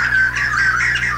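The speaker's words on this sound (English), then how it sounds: "what sounds like one single song is in fact a complex duet performed by both birds" Harsh, squawking calls from a mated pair of jay thrushes singing a duet run continuously for about a second, loud and close, with rising and falling tones layered together.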